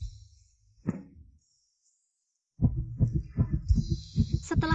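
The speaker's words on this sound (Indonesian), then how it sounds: "Setelah detak jantung begitu cepat" A fast heartbeat sound effect in a romantic Chinese Valentine's Day drama beats as a quick run of low, thumping pulses, after an isolated thump and a short silence.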